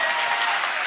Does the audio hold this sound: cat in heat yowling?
no